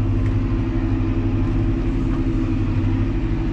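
A Fendt 314 tractor plowing a muddy field, its engine a steady, heavy low rumble that labors under load without pause, close and loud.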